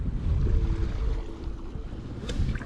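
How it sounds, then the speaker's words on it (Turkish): Steady wind roars across the microphone with waves washing and surging underneath, loud and continuous, with no voices. "güzel rüzgar ve dalga çıktı"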